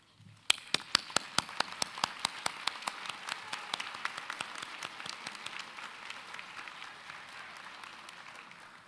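Applause at a college commencement ceremony starts with a few sharp claps, then builds into a dense, even patter from a large audience in a big hall, faint and distant, slowly thinning out.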